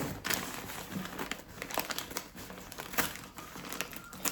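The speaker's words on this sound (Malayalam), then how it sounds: "ഇപ്പോഴത്തെ ഈ പേപ്പർ കവറൊക്കെ ഉണ്ടല്ലോ, തൊട്ടാൽ നേരം കീറിപ്പോവും" A paper gift cover crinkles and rustles as it is handled up close, in a steady run of quick, crackly bursts with no talking.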